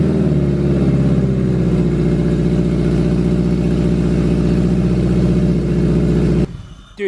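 A turbocharged Honda S2000 engine runs loud and steady with a droning, rough note close by for several seconds, then cuts off abruptly near the end.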